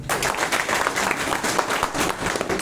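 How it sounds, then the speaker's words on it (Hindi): A classroom audience bursts into steady applause, many hands clapping loudly and densely for a couple of seconds without pause. "एक बार ताली बजा सर।"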